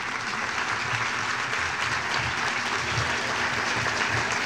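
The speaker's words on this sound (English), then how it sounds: "Please give him a big round of applause." Audience applause at a luncheon as a speaker is welcomed to the stage, a steady dense clapping from many hands that holds evenly throughout without any voices.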